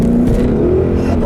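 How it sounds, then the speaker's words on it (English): A car pulls hard in second gear, its engine note rising steadily as it accelerates, loud and close throughout with no break. "I'll leave you guys with a nice little acceleration here, second gear pull"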